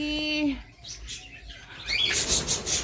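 Caged pet birds chirp and tweet close by in short bursts, with a brief flutter of wings between calls.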